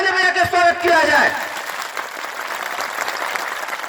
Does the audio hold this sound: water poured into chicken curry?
no